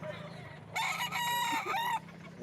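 A rooster crows once, loud and close, amid the background bustle of a Philippine pet market with farm breeder booths, and low chatter continues around it.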